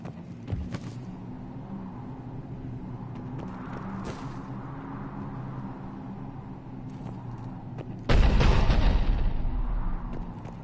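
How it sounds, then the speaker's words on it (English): Cannon fire in the sci-fi action game Mass Effect 3 Legendary Edition on PS4: a steady low hum gives way near the end to a single loud, rumbling blast lasting about two seconds. "The cannon fire is clearing the way."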